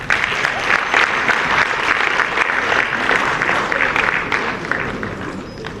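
Steady, dense audience applause welcoming the U.S. Ambassador to Sierra Leone at a formal event, sustained throughout and tapering slightly at the end.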